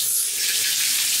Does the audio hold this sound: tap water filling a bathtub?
yes